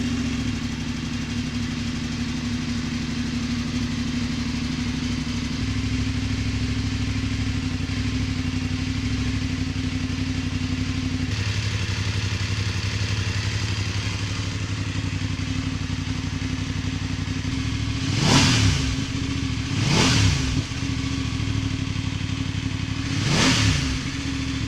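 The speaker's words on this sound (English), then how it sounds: "we'll start the bike up now with the standard system so you can hear what it sounds like" A Voge DS900X motorcycle with the standard exhaust, cold engine, idling with a steady low rumble before three sharp throttle blips rise and fall near the end, loud and close.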